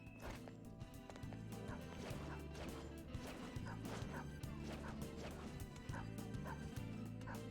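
Dog barking in the video game Persona 5 Royal, a quick run of sharp, loud yips and barks repeating steadily over game music.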